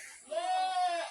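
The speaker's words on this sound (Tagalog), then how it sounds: "So ito na lang po, no, yung mga alaga nating kambing." A single goat bleats close by on a farm, one drawn-out wavering call lasting under a second.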